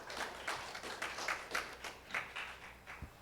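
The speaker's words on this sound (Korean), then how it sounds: "큰 박수로 모셔보도록 하겠습니다" Steady applause from an audience at a public-institution job ideathon final, a dense wash of clapping hands that continues throughout at moderate distance.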